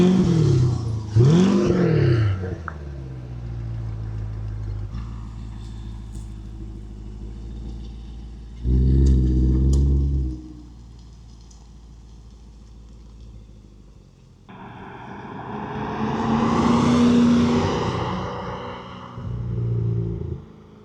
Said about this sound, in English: So that is what the exhaust sounds like when it's warmed up.